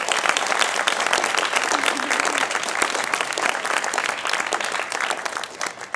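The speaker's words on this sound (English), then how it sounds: "let's give a round of applause for our alumni" Sustained, dense applause from an audience at an iOS developer demo day, honoring program alumni; steady and loud for about six seconds, thinning slightly toward the end.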